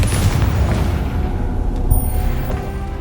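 A Confringo spell explosion in Hogwarts Legacy booms with heavy low rumble and scattered crackling debris during battle, loud and close, without speech.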